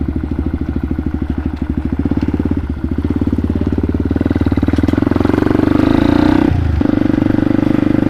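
A motorcycle engine thrums steadily while being ridden, its close, rhythmic pulsing rising in pitch and loudness as it accelerates, then dropping briefly before picking up again.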